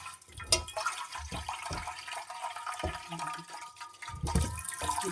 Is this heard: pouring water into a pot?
yes